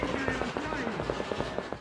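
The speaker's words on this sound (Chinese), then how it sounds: "在厄瓜多放烟花是不需要理由的，何时何地都有可能感受到烟火气息。" Fireworks going off in Ecuador, a rapid crackling string of sharp pops and bangs in steady rhythm, like firecrackers, loud and close.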